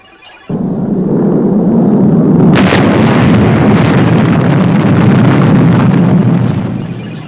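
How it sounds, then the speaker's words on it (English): A loud, sustained explosion of the XL18 spaceship as a TV sound effect: a broad roaring blast begins abruptly after a short quiet lead-in, then rumbles on steadily for several seconds with no voices. "It blew up, sir. The XL18 blew up."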